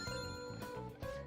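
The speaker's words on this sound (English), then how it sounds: "I'm getting a phone call." A phone rings in Persona 5 Royal with a bright, trilling electronic ring in two quick bursts, clear and alone.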